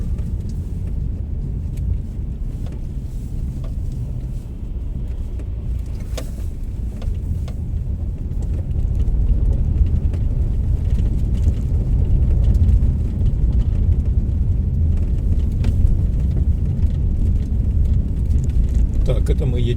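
A car drives along a snowy winter street in Anadyr, Chukotka, in January, giving a steady, close cabin rumble of engine and tyres that grows slightly louder midway, with occasional faint clicks.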